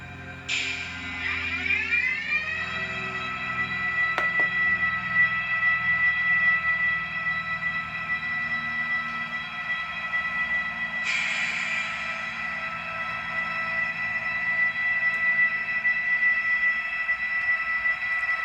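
A model train runs steadily with a sustained high motor whine and layered tonal hum, rising in pitch at the start and swelling again midway.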